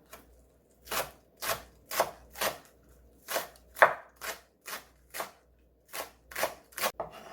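Knife chopping green onions on a cutting board, close and crisp, in an uneven rhythm of about a dozen separate strokes, with a quieter scrape between some cuts.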